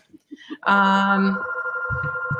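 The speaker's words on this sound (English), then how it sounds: "My phone is ringing." A phone rings during a live TV broadcast, a sustained electronic ring starting abruptly after brief soft sounds, loud and near with a few faint voice fragments before it.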